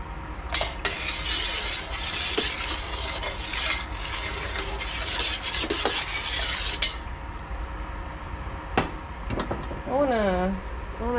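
A dye bath being stirred, scraping and rubbing in a steady rasping texture for several seconds, then a couple of knocks, with a voice speaking near the end.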